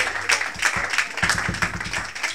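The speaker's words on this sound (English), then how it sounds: "Give a clap of faith to Jehovah God." Church congregation clapping in unison, a quick, regular run of crisp claps over a low rhythmic thump, loud and close.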